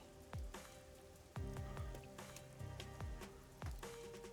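Rain falls steadily on a rooftop in the busy Kamasaki District of the game Master Detective Archives: Rain Code Plus. The patter is continuous and close, with occasional sharper drips and soft tonal game sounds.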